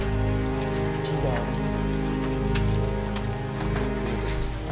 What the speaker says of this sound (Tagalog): Ay, parang masakit yata mahulugan ng yelo.